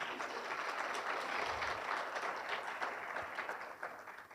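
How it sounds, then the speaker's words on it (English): Audience applause fills a room at an inaugural lecture by Prof Gisele Mah, steady dense clapping at moderate level that thins slightly near the end. "That deserves a round of applause"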